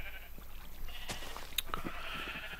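Sheep in a western-themed video game farm, a short faint bleat amid soft ambient farm noise, with a few small clicks.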